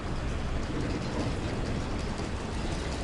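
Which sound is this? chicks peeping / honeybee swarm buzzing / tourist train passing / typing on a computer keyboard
tourist train passing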